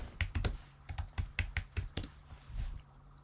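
Fingers typing a short question on a computer keyboard, about a dozen crisp, close keystrokes in an uneven quick rhythm before stopping, with no talk.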